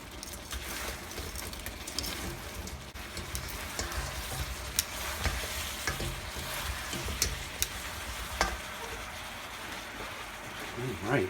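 Korean chicken wings sizzle and fry steadily in a wok while being stirred, a continuous close crackling hiss with scattered clicks of utensils against the pan.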